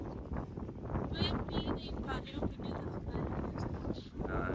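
Wind gusting outdoors while walking at a scenic spot in Dublin, Ireland, a steady blustery rumble buffeting the microphone with faint voices beneath.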